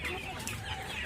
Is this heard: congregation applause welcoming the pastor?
no